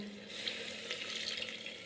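Water pours from a tap into a pot of bottle gourd and tomato curry, a continuous close splashing rush that runs steadily throughout without any voices.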